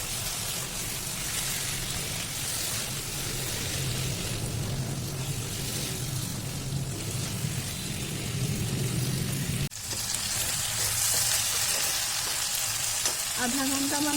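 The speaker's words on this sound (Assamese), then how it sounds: "লাহে লাহে ভালকৈ ভাজি থাকিম" Mutton pieces fry slowly in a pan over a medium flame, with a constant soft sizzle and crackle that carries on without a break and is heard alone throughout.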